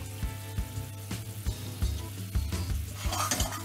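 Quail sears in a hot pan with a crackling sizzle, punctuated by regular sharp knocks of stirring and pan contact at a steady pace.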